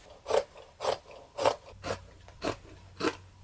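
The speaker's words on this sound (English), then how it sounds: "it's just grabbing my scissors and cutting everything" Scissors cutting through fabric and paper pattern pieces while sewing soldier costume pants: six evenly spaced crisp snips, close and fairly quiet, with a faint low hum joining partway through.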